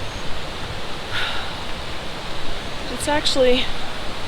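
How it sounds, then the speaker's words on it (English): A small waterfall, more a dip than a fall, on Hemlock Creek among bluebells and wildflowers, rushing as a steady hiss throughout while a person talks briefly and a bird chirps near the end. "we're coming up on a small waterfall"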